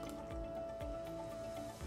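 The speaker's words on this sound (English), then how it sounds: "unlock it and pour your drink to your heart's content" A drink pours from a household drink dispenser into a container as a close, steady liquid stream with repeated rising gurgles as the vessel fills, with no talking.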